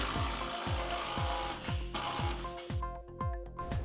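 A hand ratchet tightens the strut's upper mounting bolts during a Mustang coilover suspension install. It gives a steady run of loud, evenly spaced clicking strokes close by, with the rhythm turning choppier toward the end.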